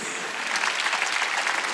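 A church congregation at a Wednesday service claps together in a brief burst of dense, steady applause that fills the hall.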